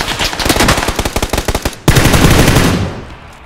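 Rapid machine-gun bursts from a shooter video game, a fast loud close rattle of shots followed by a sharp blast and fading rumble.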